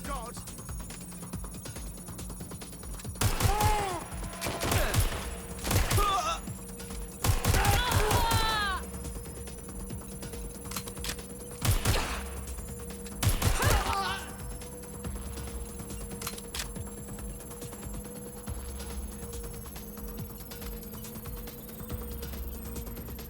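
Gunfire in Watch Dogs Legion on PS5 comes as several short loud bursts of shots, spread over about ten seconds, with game voices speaking between them over a steady background hum.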